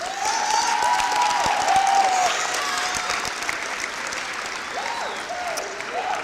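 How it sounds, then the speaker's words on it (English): A crowd applauds steadily and loudly for several seconds at a high school senior awards ceremony, the clapping dense and sustained, with a few voices and whistles rising above it. "Give yourselves another round of applause."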